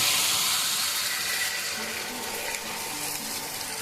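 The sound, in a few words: warm water poured into frying pan with chicken masala, sizzling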